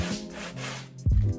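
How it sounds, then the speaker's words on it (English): Rough 120-grit sandpaper rubs by hand across the base of an abstract art piece, giving a soft, scratchy stroke followed by a louder, sharper scrape, close up and with no talking. "I'm wrapping it around this Crayola box to see if that would help to make it like a sanding block"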